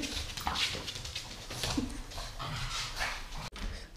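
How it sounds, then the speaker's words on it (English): A jealous pug whimpers and pants close by indoors, with soft whines and breathy huffs running through the whole stretch amid household background noise. "You're a very jealous dog."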